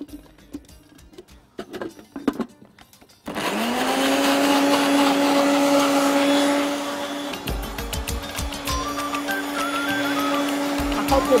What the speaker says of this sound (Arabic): وابتدي اضرب البيض كويس قوي